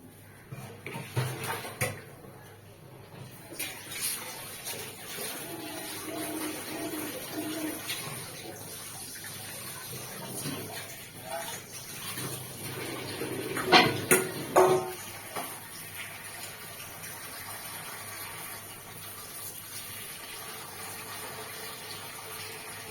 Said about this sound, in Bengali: এবার কুমড়োটা ধুয়ে নেব আমি।